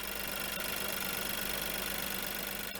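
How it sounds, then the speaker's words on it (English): An Audi A1 Sportback engine idling, a dense, even mechanical hum with a steady low drone, heard close up and alone. "Right, the Audi A1 is started."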